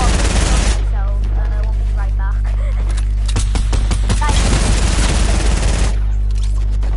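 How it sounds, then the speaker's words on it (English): Rapid SMG fire in a video game, dense bursts of automatic shots that stop and start with brief gaps, loud and close over a steady low drone. "What the hell is your SMG, Bloom?"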